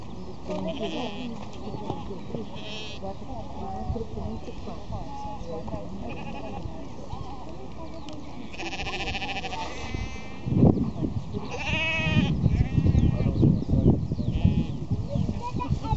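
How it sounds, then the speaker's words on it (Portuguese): Sheep bleat repeatedly near Stonehenge, several wavering calls rising above an outdoor background, while a person talks throughout. "As ovelhas Big Brother aí querendo aparecer no filme."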